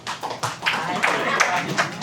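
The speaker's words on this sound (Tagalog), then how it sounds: "Sige po, lahat ng tulog pumalakpak." A church congregation claps during a Sunday service in a short burst of dense, roomy applause, with a voice speaking over it.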